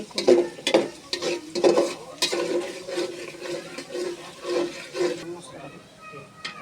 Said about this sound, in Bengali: ভালোভাবে নেড়ে বাদামি রং একটা ফ্লেভার আনতে হবে হালকা লালচে লালচে ভাব আসবে